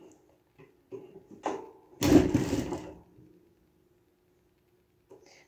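A sewing machine stitches a seam on a baby romper: a few faint taps, then one loud close whirring burst of about a second that stops abruptly, followed by near silence.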